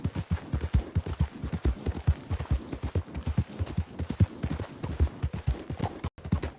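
Horse hooves clip-clopping in the Western video game Red Dead Redemption 2, a steady rhythmic series of close, distinct hoofbeats at a walking-to-trotting pace, briefly pausing near the end.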